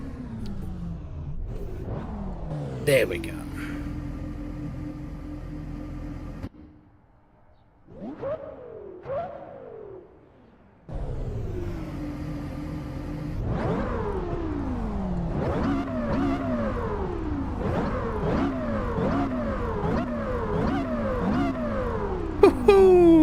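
Porsche Carrera GT V10 heard from outside, revving loudly through repeated rising sweeps and sharp blips, with a short quieter gap midway before a long run of hard accelerations; a voice speaks briefly.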